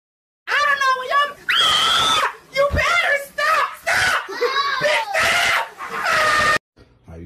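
A dog being bathed at a groomer screams and yowls in loud, repeated bursts of high, wavering cries separated by short gaps, continuing nearly nonstop.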